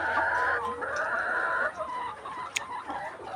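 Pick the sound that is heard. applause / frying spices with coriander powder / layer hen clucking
layer hen clucking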